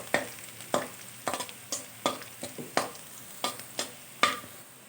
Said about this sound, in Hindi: ये मैंने प्याज ब्राउन करने के लिए रख दिया है।